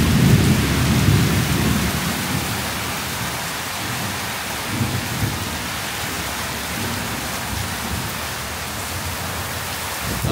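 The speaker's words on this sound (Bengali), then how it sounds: "বৃষ্টিপাত কমলেও বজ্রপাত এখনও কমে নেই" A night thunderstorm with wind brings a steady hiss of rain on surfaces and low, rolling thunder, loudest at the start. The storm fills the whole scene continuously, with no voices.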